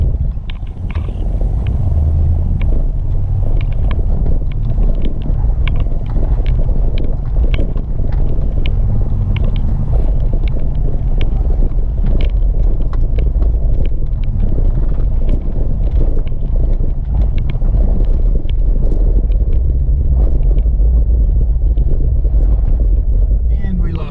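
A Jeep WJ Grand Cherokee on large tires crawling off-road over back-to-back rocky ledges, a loud continuous low engine rumble with knocks and clatter from the terrain, wind noise, and a voice talking over it.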